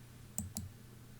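A computer mouse gives two quick, crisp clicks about a fifth of a second apart during a game of Old Runescape, against a quiet room hum.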